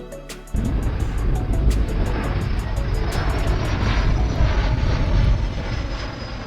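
An Avro RJ-85 air tanker, a converted commercial jet carrying fire retardant, roars loudly and continuously after a brief quieter start, its engine noise close and sustained throughout.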